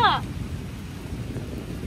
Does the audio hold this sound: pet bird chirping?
no